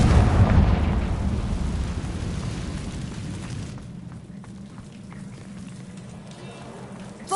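A Confringo blasting spell detonates in Hogwarts Legacy, opening with a loud, close burst that rumbles and slowly fades over several seconds.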